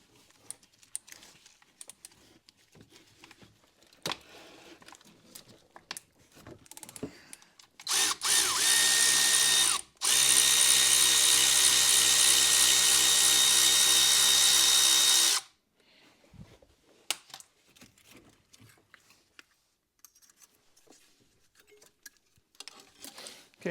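Power tool spinning off the brake caliper bolts on a Nissan X-Trail T30 during a front brake job: two loud, sustained whirring bursts, the second longer and steady, between stretches of quiet clicks and handling.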